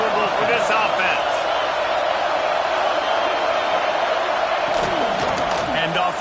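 A college football stadium crowd roars steadily throughout a South Carolina at Oklahoma game, a dense, loud wash of cheering that persists without a break, with a commentator talking over it.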